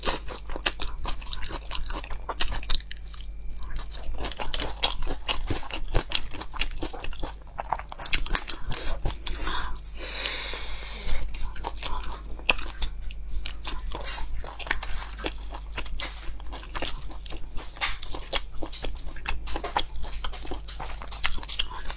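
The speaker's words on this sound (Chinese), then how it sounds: "这土豆片真是太好吃了" Someone eats at close range, crunchy sauce-coated potato slices bitten and chewed, with repeated sharp crunches and wet chewing and an occasional clink of cutlery throughout.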